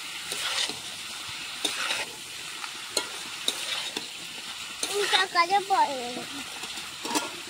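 Fried ingredients being stir-fried into a cooked spice mix in a pan, with intermittent scraping stirs over a soft sizzle and someone speaking partway through.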